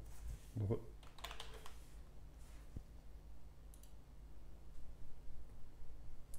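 Someone types a comment on a computer keyboard, soft clicks and key taps near a quiet microphone over a low steady hum, with a brief louder knock near the start.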